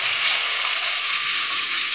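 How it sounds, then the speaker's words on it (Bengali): Washed chicken frying in hot oil left over from frying potatoes, a steady bright sizzle that holds evenly throughout, close and continuous with no talking. "এবার এই আলু ভাজার তেলটাতে আমি ধুয়ে রাখা চিকেনটাও ভেজে নেব।"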